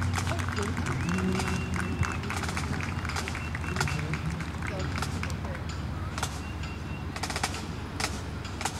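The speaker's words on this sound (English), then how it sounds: "for a round of applause, please," An audience breaks into sustained applause at an afternoon program, a dense, continuous wash of clapping lasting several seconds, with sharper individual claps popping out and a faint voice beneath.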